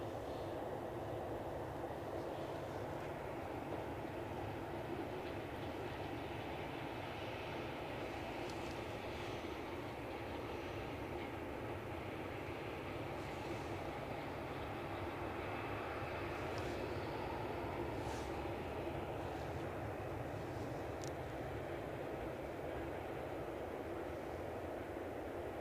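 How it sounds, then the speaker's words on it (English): An Air France A318 airliner descends on approach to Edinburgh Airport, heard as a faint, steady, distant roar of engine and airflow noise that holds throughout without any voices. "Thank you, Sandra Pollock, for confirming our Air France A318 has just flown over Carlisle. It's coming down fast on us, isn't it?"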